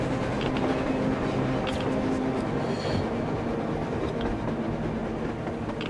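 A train rolls past in the post-apocalyptic shooter Metro Exodus, a steady, loud rumble of rail cars with faint clatter running throughout, no voices over it.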